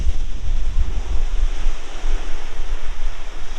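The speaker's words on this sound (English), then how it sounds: "that sea is getting up" Rough sea waves churn on the Suffolk coast in winds around 40 mph, a continuous loud roar of surf with heavy wind buffeting the microphone, and no voices.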